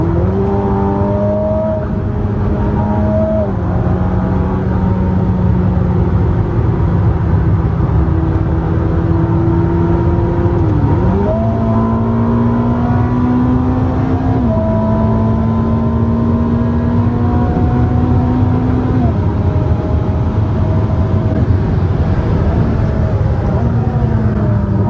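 Ferrari SF90 Assetto Fiorano hybrid supercar engine heard from inside, steady loud drone with rising revs and audible gear shifts as pitch steps up and drops several times, no talking.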